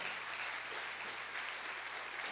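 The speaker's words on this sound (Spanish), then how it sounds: "¿Cuánto le dan un aplauso al Señor?" A church congregation applauds during a Spanish-language family service, giving a steady, even wash of clapping at a moderate level, fairly distant and diffuse, with no voices rising above it.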